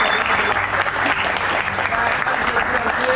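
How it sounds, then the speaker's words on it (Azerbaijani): Audience at an event applauding athletes, dense continuous clapping at full volume from a large crowd, close and steady for the whole stretch with murmuring voices underneath. "Onda bütün idmançılarımızı alqışlayaq."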